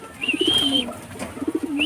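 Pigeons coo in soft, throaty bursts, two rolling phrases separated by a pause, with a thin high whistle-like tone above.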